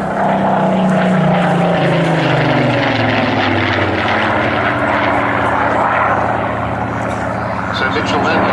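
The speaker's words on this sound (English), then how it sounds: "This is the only Miles Whitney Strait left flying" A Miles Whitney Straight vintage propeller monoplane drones past at an airshow, its engine roar loud and steady with a slowly falling pitch, while a commentator talks over a public address system.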